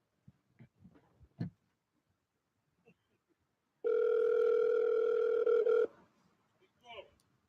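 A telephone dial tone plays as a call is placed, a loud steady two-second tone that stops abruptly, set between faint clicks, handling noises and brief distant voices.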